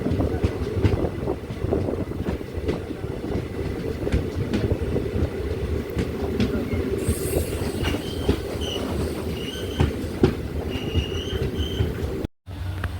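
Diesel train pulling into Thenmala railway station, a steady rumble of rolling railcars with clickety-clack and faint wheel squeals, heard from on board over a continuous low roar.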